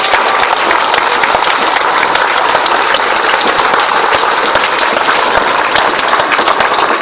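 A crowd at a political meeting in Quillan applauds Pierre Castel, with dense, continuous clapping filling the room at a steady loud level throughout, with no voices standing out.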